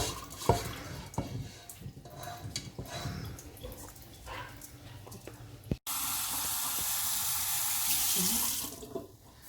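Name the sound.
washed rice draining water in a colander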